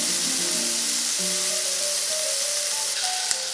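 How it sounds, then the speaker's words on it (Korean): Bacon sizzling steadily in oil in a pan, a loud, continuous crackle and hiss that runs unbroken throughout with faint tonal scraping notes underneath and no talking. "피메어 베이컨을 적당한 기름을 두르고 조리해 줄게요"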